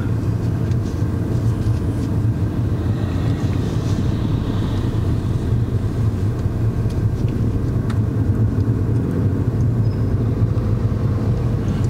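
A car rolls past on a road, its engine and tyre rumble steady and fairly loud, filling the stretch with continuous low noise and no voices.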